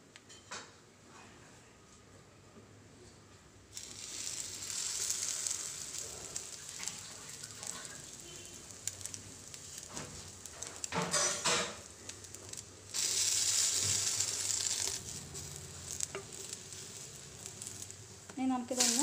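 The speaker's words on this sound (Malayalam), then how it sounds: "ബ്രെഡ് നമ്മൾ തയ്യാറാക്കിയിട്ടുള്ള മിക്സ്ചറിൽ ഡിപ്പ് ചെയ്തതിന് ശേഷം നമുക്ക് ഫ്രൈ ചെയ്തെടുക്കാം" Bread dipped in a spicy kanthari mixture frying in a pan, hissing sizzle that swells and fades in waves, with occasional clinks of utensils against the pan and a faint voice in the background.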